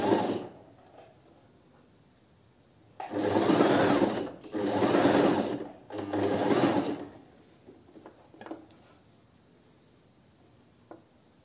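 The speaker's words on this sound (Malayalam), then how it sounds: "ഇപ്പൊ നമ്മൾ സ്റ്റിച്ച് ചെയ്ത് പഴയ സ്ഥലത്ത് എത്തിയിട്ടുണ്ട്" A sewing machine stitching a petticoat runs in three short, loud bursts of rapid mechanical whirring separated by brief pauses, followed by quieter handling clicks.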